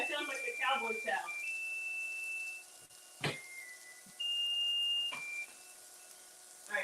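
An oven timer sounds a series of steady electronic beeps, some short and some sustained, coming through the kitchen with a person talking briefly at the start.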